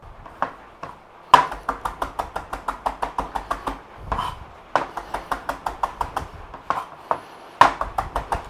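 A knife chops parsley on a board in a home kitchen. Sharp, crisp knocks come in quick rhythmic runs, separated by short pauses. The chopping is close and clear, and no one speaks.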